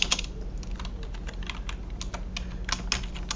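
Someone types a presentation title on a computer keyboard, producing quick, irregular key clicks close by, with small pauses between bursts and no talking.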